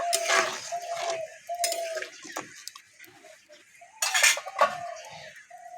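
A spoon scraping and clinking against a pot while turmeric is stirred into boiling lentils for dal, in a few bursts of metallic scraping with a faint steady hum underneath.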